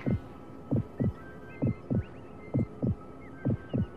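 Pounding heartbeat sound effect from an anime, a steady run of paired thumps repeating about every second, loud and close over a faint hum.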